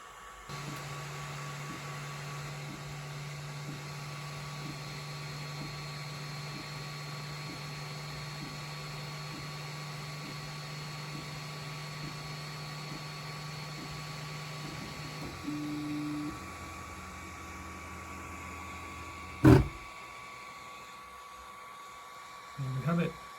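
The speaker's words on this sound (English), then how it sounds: "it will move to the middle and start printing the actual winglet." Ender 3 3D printer printing a winglet hums with steady stepper-motor tones and faint rhythmic ticks, shifting pitch as the head moves, with a sharp knock near the end and no talk.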